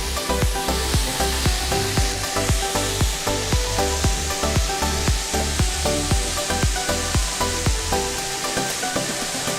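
Pieces of pirarucu fish frying in a pan, a loud continuous sizzle with rhythmic crackling pops and spatters throughout, close and without talk.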